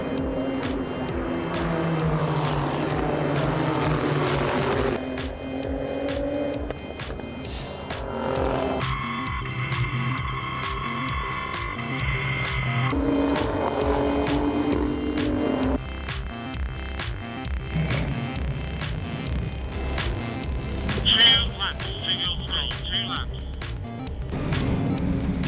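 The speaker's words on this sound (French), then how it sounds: "Le pilote V8 Racing se fait dépasser par Dario Capitano dans le premier tour." Renault Sport Trophy V8 race cars circling a track in a 2015 season race, engines droning and shifting pitch as cars pass, under continuous commentary.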